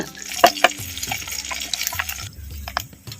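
Sardines frying in coconut oil: close, busy sizzling crackle with clicks and scrapes of a utensil stirring the hot oil, loudest early and easing slightly toward the end.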